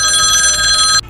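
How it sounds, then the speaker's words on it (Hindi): A telephone bell rings loudly and continuously for about a second, then cuts off abruptly, with no voices over it. "सर का फोन होगा"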